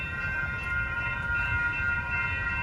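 A halted train sits stopped in Santa Ana, California, after a fatality, giving off a steady, close, continuous low rumble with faint sustained mechanical tones above it and no voices.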